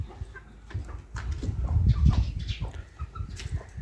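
Chickens clucking close by among household activity and clatter around a home kitchen area, irregular soft clucks with scattered knocks and movement noises.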